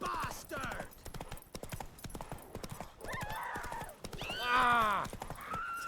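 Horse hooves clip-clop in a steady rhythm through The Witcher 3 video game, with a horse whinnying loudly near the end and a voice talking over the hoofbeats.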